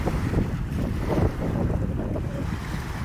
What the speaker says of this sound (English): our stiff west wind again today